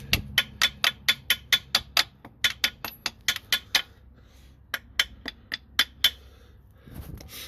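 A hammer taps repeatedly on a car's right front strut while removing the top nut on a 2008 Toyota Mark X Zio, giving a steady series of sharp metallic knocks, close and clear, with a brief pause before a last few strikes.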